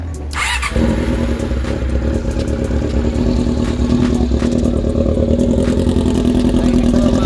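A Honda CB-1 400 motorcycle engine with engine issues starts with a clatter and then idles steadily, a close, loud, rhythmic chugging that holds for several seconds.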